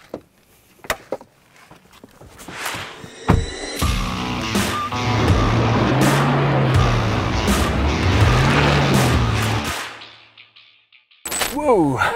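A 2022 SsangYong Musso pickup drives off-road over frozen, icy ground: scattered knocks and clunks first, then a sustained engine roar with rumbling and rattling from the body for several seconds before it fades, followed by more clatter.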